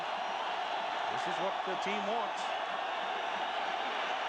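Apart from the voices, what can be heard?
stadium crowd cheering at a college football game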